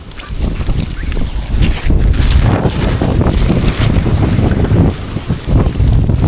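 Loud, continuous wind buffeting the microphone at a mountaintop park in Tagaytay, rumbling and gusting steadily throughout with no other clear sounds.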